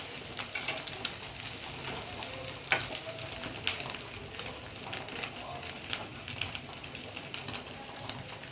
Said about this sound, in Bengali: এরকম করে সব ডিমগুলো আমি ভেজে নেব